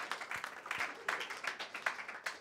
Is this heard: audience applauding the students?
yes